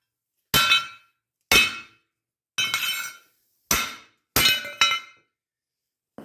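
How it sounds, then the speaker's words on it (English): A hammer strikes a single-pass weld bead from a cheap welder five times in a slow, uneven rhythm, each blow a sharp, loud metallic clank with a brief ringing decay, close up and with no talk. "We'll see what happens if I beat it with a hammer."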